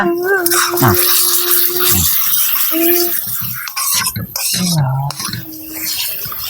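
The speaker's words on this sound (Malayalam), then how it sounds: "ആ അടിപ്പിടിക്കാണ്ട് ഇളക്ക്" A utensil scrapes and clinks against a pan while ground tomato and shallot paste is stirred for a Tamil Nadu-style garlic curry, with intermittent clatter under a person talking nearby.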